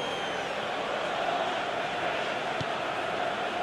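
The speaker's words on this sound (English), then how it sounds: "you can hear how the crowd are reacting to this too" Simulated stadium crowd noise in the football game PES 2019, during an Ajax versus Real Madrid Champions League match, forms a constant roaring murmur with a faint swell, heard as a broad, even bed of background sound.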